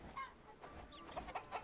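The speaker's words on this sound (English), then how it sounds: "Yeah, chickens." Chickens cluck in a strategy video game, several short, soft clucks in quick succession with faint background ambience.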